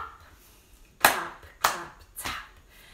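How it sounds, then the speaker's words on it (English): Children and a teacher clap hands together in a rhythm during a toddler music class, three sharp group claps spaced about half a second apart, close and fairly loud with no talking. "Really good clapping."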